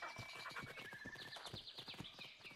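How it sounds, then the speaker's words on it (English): A horse in the survival video game Ark gives a snorting whinny over busy in-game noise, with scattered hoof-like clops and thuds close by. "Hey, come here this way, horse."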